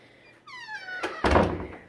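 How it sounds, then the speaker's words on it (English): A door in a preschool hallway swings shut with a brief creaking squeak, then two close thuds as it latches, recorded indoors with no talking. "I go down all the hallways and close all the doors."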